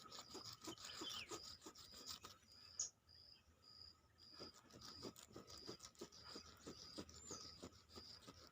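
Rubbing or filing a small metal object, a regular rasping stroke repeated over and over at close range, pausing briefly partway through, with a steady high chirping in the background.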